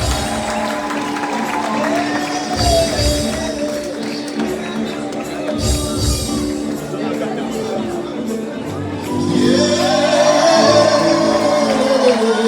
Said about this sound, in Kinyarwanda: Mudukomere amashyi menshi kuko tubazanye